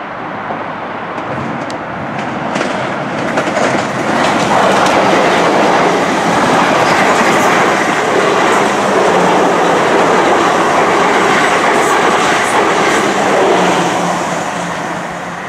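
A Class 195 diesel multiple unit on the South Western Main Line rumbles loudly past close by, a sustained roar with wheel clatter that builds, holds and eases slightly.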